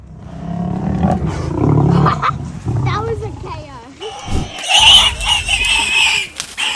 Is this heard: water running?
no